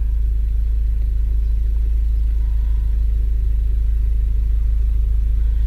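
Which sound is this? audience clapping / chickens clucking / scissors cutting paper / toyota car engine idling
toyota car engine idling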